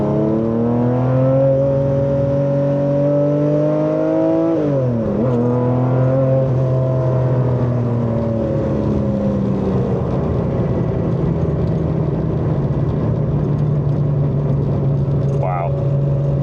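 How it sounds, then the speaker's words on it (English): A Singer-restored classic Porsche with a six-cylinder engine pulls hard on the road, its smooth harmonic note rising through the revs, dipping at a gear change, then climbing again and settling into a steady drone. "Just that 6-cylinder symphony behind me."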